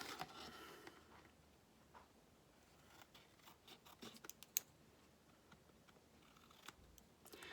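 Scissors snip a paper tag in a quiet room, a few faint, crisp cuts and small clicks scattered over several seconds with no talking.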